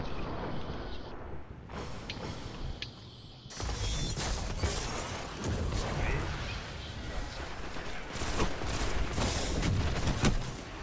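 Dense, continuous gunfire from the video game Destiny, a steady barrage of shots and crackling impacts running throughout at close range.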